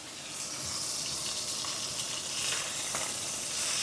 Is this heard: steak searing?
yes